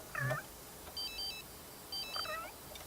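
A telephone rings inside The Sims 3, giving short repeated electronic trills in two bursts, mixed with brief game cues and a cat-like chirp.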